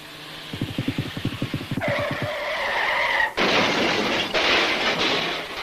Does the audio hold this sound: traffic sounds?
yes